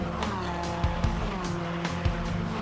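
Race car on grippy new GT radial tires at speed on a track, engine droning with several sharp gear-shift or kerb thumps over about two and a half seconds.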